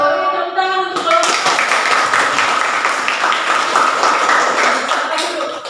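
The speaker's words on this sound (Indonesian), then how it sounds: "Tepuk tangan untuk kelompok" A classroom full of students applauds a group after its presentation during a teaching-practice lesson. The clapping is steady and dense, with many hands, and it starts abruptly after a brief spoken line and carries on to the end.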